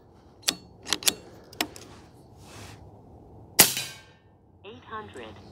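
Airforce Talon SS airgun fitted with a homemade plenum, several sharp, crisp cracks spaced apart, each a single close snap with a short ring, one louder crack near the middle, then a brief rattling clatter.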